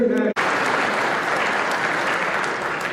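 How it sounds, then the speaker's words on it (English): An audience at a 70th anniversary V-J Day commemoration bursts into sustained applause right after a brief bit of speech, the clapping dense, even and continuing to the end. "Let's have another round of applause for all our international."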